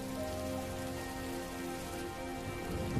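Steady heavy rainfall over a village of farmers' fields, an unbroken wash of pattering drops at an even level, with faint tonal hum in the background and no voices.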